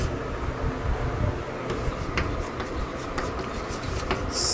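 Chalk or marker writing on a classroom board during a science lecture, a run of faint scratchy strokes and taps at irregular intervals over a steady room hum, with no talking.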